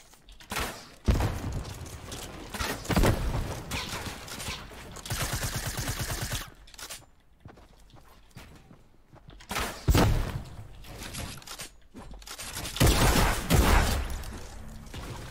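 Gunfire in Fortnite, with repeated bursts of rapid shots and heavy impacts spread over several seconds, some loud and close, with a quiet gap in the middle.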